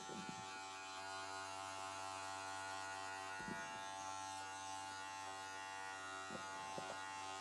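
Electric hair clippers giving a men's crew cut hum with a steady, fairly faint buzz that runs unbroken throughout, with no talking.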